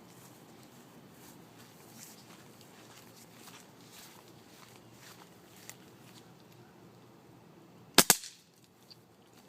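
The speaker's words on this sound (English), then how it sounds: "we're going to shoot my smallest air cannon with 4th of July poppers at that wall" A small air cannon loaded with 4th of July poppers fires at a wall, giving a sharp double crack near the end after a stretch of quiet background.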